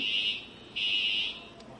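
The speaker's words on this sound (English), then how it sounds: "there's ongoing, offgoing fire alarms here, so I'm trying to fight through that" A fire alarm sounds in two long, loud electronic tones with a short gap between them, the shrill beeping filling the clip with no speech over it.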